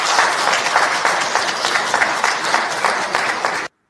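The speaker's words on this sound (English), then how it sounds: "Who are the people clapping for this man?" A crowd applauding the president, steady dense clapping from many hands at close range that cuts off abruptly after a few seconds.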